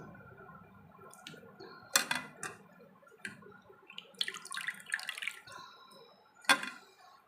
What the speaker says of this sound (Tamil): இப்போ நாம் இந்த புளியை நல்லா புழிஞ்சு எடுத்துக்கலாம்